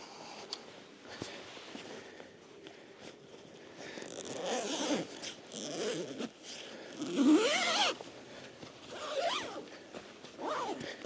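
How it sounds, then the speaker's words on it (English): A zipper slider on a Cutter Dominator mesh rain cover is drawn in short rasping pulls, with fabric rustling and handling noises around it, close by and moderately loud. "Bring this zipper slider up a little bit."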